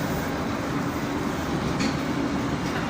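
A Tashkent metro train rolls along inside the car with a loud, steady rumbling roar and a faint brief squeal, continuous and close with no voices.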